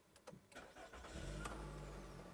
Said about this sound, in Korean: 시동을 한번 켜볼까요?